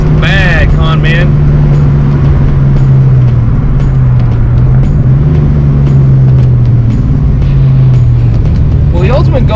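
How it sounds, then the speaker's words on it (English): A 1986 Ford Mustang GT with a bad exhaust leak driving steadily, its loud, continuous droning engine and exhaust note holding a low, slightly wavering pitch throughout, with short bursts of talk near the start and end. "Whoa, that exhaust leak is bad"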